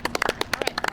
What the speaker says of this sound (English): Ladies and gentlemen, clap it up for Miss Frida.